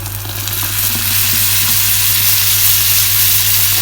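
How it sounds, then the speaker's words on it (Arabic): Tomato juice poured onto catfish sautéing with onion in a pan, a loud steady sizzle and crackling hiss with a low hum underneath, no talking. "هنزل عليهم بعصير الطماطم اهو"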